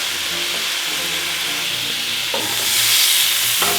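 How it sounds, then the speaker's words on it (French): Sausages fry in a pan, releasing fat and water in a steady loud hiss and crackle. Occasional utensil scrapes and knocks break through, close by, with no talking. "Les saucisses sortent leur graisse et leur eau tranquillement."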